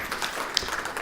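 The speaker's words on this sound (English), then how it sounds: "Please give a big round of applause to Dr. Nishal." A conference audience claps to welcome a speaker at a fintech talk on AI, a soft, even spread of clapping at moderate distance with a few sharper individual claps.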